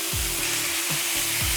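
Chicken on an outdoor grill sizzles steadily, a close continuous hiss with faint pops and a few short scrapes or clicks standing out, no voices.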